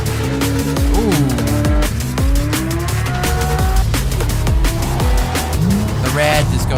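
A Porsche 911 drives past amid other cars, engines rising and falling in pitch with swelling revs and Doppler sweeps, loud and close, while people talk and exclaim over it.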